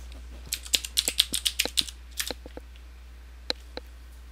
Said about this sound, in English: In the address bar, type in lynda.com.